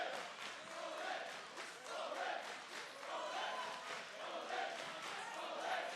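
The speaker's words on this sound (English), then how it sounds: "NXT Universe cheering on" An NXT wrestling arena crowd roars and cheers for a televised show, a dense, continuous wall of voices that swells and surges in waves throughout.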